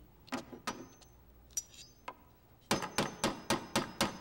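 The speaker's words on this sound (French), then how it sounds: "Est-ce que c'était le bruit de mon marteau?" Sharp knocks of a hammer in a cartoon, a few scattered hits, then a quick steady run of about eight blows in an even rhythm, close by.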